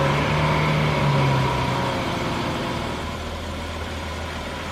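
A car engine idles while warming up to temperature ahead of an oil change: a steady low rumble with a soft hum, close by and even, easing slightly in level toward the end, with no voices.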